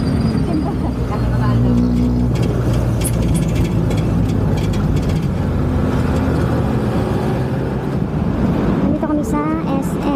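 Jeepney ride through Manila streets, with a steady loud rumble of the diesel engine and road noise throughout, and people talking faintly in the background.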